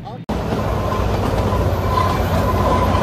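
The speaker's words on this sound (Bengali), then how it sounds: "বারক স্টেশন ক্রস করেই এবার ট্রেন চলতে থাকলো তার পরবর্তী স্টপেজ তথা শেষ স্টপেজ ডাইরেক্ট সিমলার দিকে" Kalka-Shimla toy train running on from Barog station, a steady loud rumble and rattle of the moving carriages heard continuously from close by inside the train after a brief cut at the start.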